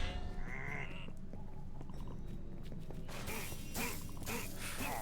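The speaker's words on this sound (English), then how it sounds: "Oh, a loot pig." Loot pig squealing in the video game Minecraft Dungeons, a string of bleating, oinking animal cries over steady game background noise, growing louder and busier in the second half.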